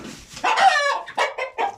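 Young chickens, growing pullets, squabble nearby with a string of sharp, agitated clucks and squawks in quick bursts, close and fairly loud.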